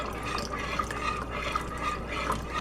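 Liquid is poured in a small steady stream into a mixture while it is stirred in a home kitchen, giving a soft continuous trickle with light drips and splashes and no voices.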